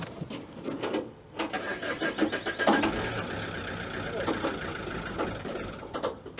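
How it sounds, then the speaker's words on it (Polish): An Opel Vectra C is cranked and starts, then stalls. Rapid ticking cranking pulses lead into a brief uneven engine note that dies away, and people talk close by throughout. "Jestem ciekaw, jak to tam sobie odpali, zgaśnie."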